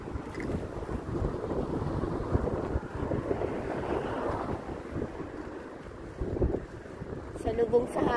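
Strong wind buffets the microphone in continuous low rumbling gusts, with a faint voice underneath.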